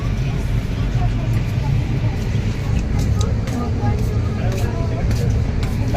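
A steady low rumble of a moving train fills the clip, constant and close, with voices talking over it.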